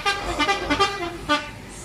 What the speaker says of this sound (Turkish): Korna çaldı lan bana